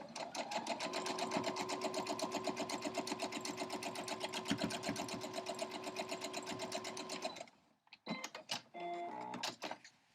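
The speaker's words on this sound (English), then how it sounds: "I'm just going to place this way on the fabric and sew it right here" A sewing machine stitches fabric for a small quilt block in a fast, even, close-up mechanical run that stops abruptly, followed by a few short bursts of stitching.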